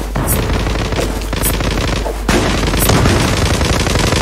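A heavy weapon fires in the online shooter Zula. The shots come loud and close over a constant rumble, with a sharp burst every second or so and a harder blast partway through.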